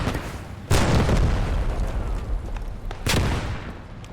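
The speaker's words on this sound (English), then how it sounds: "Careful, there's people firing down the road." Gunfire and booming explosions in the World War II video game Post Scriptum, two loud blasts over a constant rumbling battlefield background, no talking.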